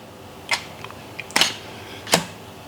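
Three separate camera shutter clicks, spaced about a second apart, as a series of macro photos is taken for focus stacking. They are crisp and close over a quiet background, with faint handling noises between shots.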